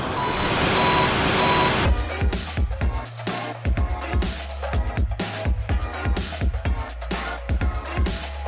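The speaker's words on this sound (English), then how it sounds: "I hope that you're enjoying the beeps from the garbage truck" Steady reversing beeps sound from a garbage truck for a couple of seconds over engine noise, then give way to a rumbling motor and irregular clanks and thumps.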